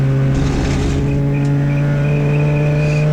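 CityCar Cup race cars at Silverstone, a loud, steady engine drone from close by with a sustained tone and faint higher whine, no voices.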